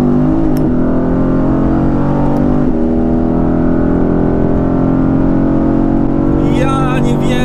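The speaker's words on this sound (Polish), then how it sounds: "Teraz się rozgrzał wydech. Pokażę wam na koniec jeszcze, jak brzmi wydech rozgrzany." A Mercedes-AMG GT with a 557 HP engine and a warmed-up exhaust roars loudly and steadily under hard acceleration, close by, with the tone rising and shifting through gears and faint voices near the end.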